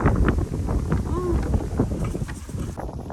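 Strong wind blows outdoors as a loud, steady rush and buffet against the microphone, with faint scattered knocks underneath throughout.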